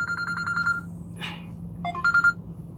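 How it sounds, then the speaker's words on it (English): A phone rings with an incoming call: a fast, warbling electronic ringtone pulses in short bursts, pauses, then chirps again, moderately close with a soft background hum. "I got a phone call? Who's calling me?"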